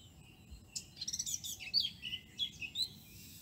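Several birds chirp and trill in quick bursts close by over a soft low background rumble, with the calls growing busier toward the middle and continuing to the end.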